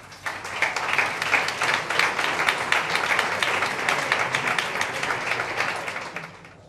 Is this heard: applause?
yes